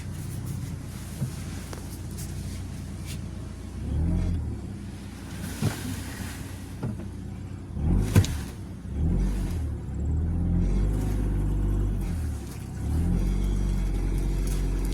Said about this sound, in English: Look at that, that's how you tow a car